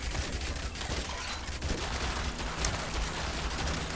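Automated turrets firing in the zombie survival game Yet Another Zombie Survivor, a dense continuous rattle of rapid shots mixed with impacts, loud and unbroken throughout.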